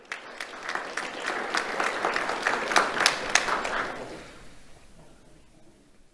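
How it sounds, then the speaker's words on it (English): Audience applause at an awards ceremony honoring a student, with crisp individual claps swelling into a steady round before tapering off into quiet room tone. "Let's have a round of applause for Aubrey Laird."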